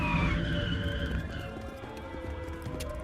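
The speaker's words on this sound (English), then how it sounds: "The sound of vehicles braking suddenly can be heard outside the warehouse" Vehicles braking suddenly outside a warehouse in the game Girls' Frontline 2, a short descending screech at the start over a dense rumble, with siren tones lingering behind it.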